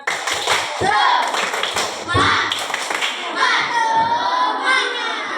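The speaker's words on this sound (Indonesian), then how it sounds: "Ayo sebelum kelompok 2 presentasi kita tepuk semangat dulu." A class of fifth-grade children performs a rhythmic spirit clap together, with sharp clustered hand claps in patterned bursts mixed with their chanting voices, close and lively throughout.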